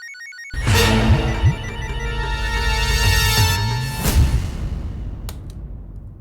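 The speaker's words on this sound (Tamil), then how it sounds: "ஃபோன் அடிக்குது." A telephone rings loudly in a domestic drama scene, its electronic ringtone pulsing steadily with a whooshing music sting underneath and no talk over it.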